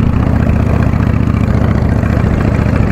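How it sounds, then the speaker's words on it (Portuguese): A customized Yamaha Dragstar 650 motorcycle idles close by, its engine note steady and unbroken, with a dense, even low-end rumble and no voices. "uma Dragstar 650 customizada. Minha motoca aí, meu trator azul."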